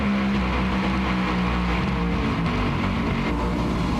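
Onboard a drag racing car at a Seattle drag strip in 2009: a steady, loud, close engine roar with constant low-frequency drone through the whole run, no talking.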